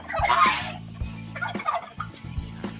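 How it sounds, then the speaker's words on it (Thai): Geese honk loudly and repeatedly, harsh overlapping calls coming close together in uneven bursts. "ห่านครับเสียงดังมากเลย"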